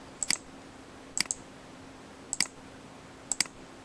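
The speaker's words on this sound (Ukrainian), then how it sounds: "казали в попередньому відео в коментарях, що дуже сильно клацає миша" A loud computer mouse clicks in four quick double or triple bursts, roughly one second apart, each sharp and close, over a faint steady hum in an otherwise quiet room.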